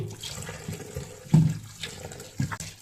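Tap water runs into a basin while flour dough is squeezed and washed by hand, with a steady splashing flow and a few louder sloshes and bumps close by.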